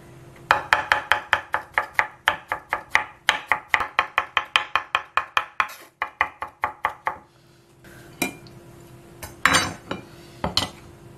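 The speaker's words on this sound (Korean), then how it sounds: "호박 여기 끝부분에 여기 초록 부분만 조금만 당근만큼만 이렇게 잘라내겠습니다. 곱게 다져주겠습니다." Rapid, rhythmic knife chops finely mincing squash on a cutting board, a quick steady run of sharp taps, then a pause and a few scattered scraping clicks.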